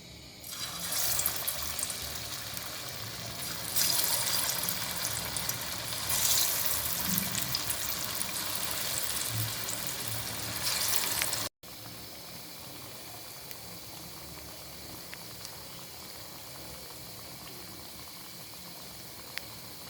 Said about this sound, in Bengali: একটা প্যানে আমি পর্যাপ্ত পরিমাণ তেল দিয়েছি এখন কাবাব দিয়ে দিচ্ছি